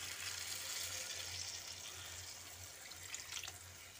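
Hot water poured from a cup into spiced potatoes in a pan, a faint, steady splashing pour lasting a few seconds, quiet and close.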